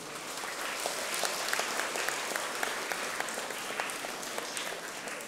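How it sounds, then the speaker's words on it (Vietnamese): Steady applause from a crowd of children at a Buddhist traffic-safety event, dense clapping sustained evenly throughout with no talk over it. "Các cháu hãy cho một tràng vỗ tay tán lương"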